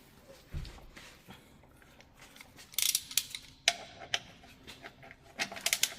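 A ratchet with a 13 mm socket works the oil drain plug on a 2019 Mercedes C-Class C200d, giving quick bursts of sharp clicking pawl ticks near the microphone after a quiet start, no talk.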